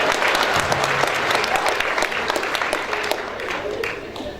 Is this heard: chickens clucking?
no